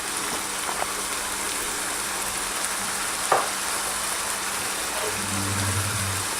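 Ginger and garlic paste fries in a pan with a steady, hissing sizzle, broken by an occasional stir or soft knock, close by and with no talk.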